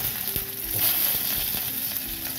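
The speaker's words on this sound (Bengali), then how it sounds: "রসুনটাকে একটু ভেজে নিলাম, এরপরে আলু দিলাম" Garlic and potatoes frying in a pan after a tempering of black cumin and dried red chillies, a soft steady sizzle with a few light scrapes and stirs, fairly quiet and close.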